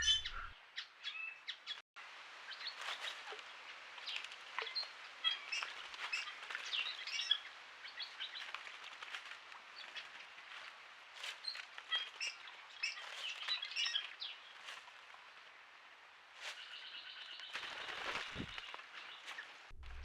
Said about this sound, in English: It's really great to pick up all these bird calls and the sounds of them bathing and moving.